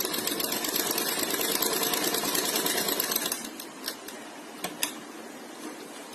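Sewing machine stitching a sleeve seam runs in a steady fast whir for about three seconds, then stops, leaving a few isolated clicks and taps in a quiet room.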